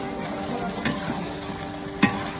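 Oil-free helicopter catfish curry is sautéed in a pot on a village clay stove over a wood fire, with a steady close sizzle and two sharp scrapes of a stirring spoon.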